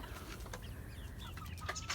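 Chickens cluck in a scrap-built coop made from snow fence formed into a circle, short close clucks and squawks repeating over a busy farmyard background.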